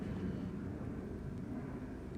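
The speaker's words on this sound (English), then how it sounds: "I don't know if you guys can hear the airplane in the background." A distant airplane passes overhead as a steady, low, rumbling drone that holds evenly for the whole stretch, with no talking.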